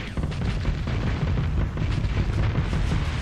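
Missiles and weapons fire striking ships during a space battle in the Starsector game, a dense, continuous rumble of booms and bursts at steady loudness throughout.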